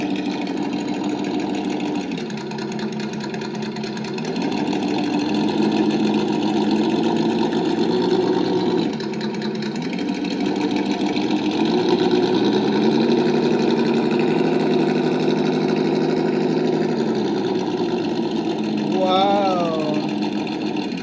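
A V8 engine sound mod on an MK07 RC crawler plays a continuous idling engine rumble with rising and falling revs, close and fairly loud, while people talk excitedly over it.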